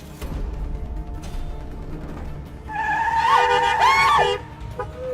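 A car skids with a sharp, rising tire squeal lasting over a second as it nearly hits a pedestrian in a drama scene, loud and close over a low background rumble.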